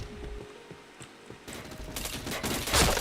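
Video game gunfire crackles in rapid bursts that grow denser and louder toward the end, over a low background hum.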